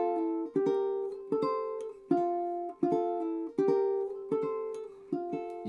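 Ukulele plays Frère Jacques in paired notes with a harmony line a third above, a steady run of about eight plucked double stops, each ringing and decaying, quiet and close with no talking.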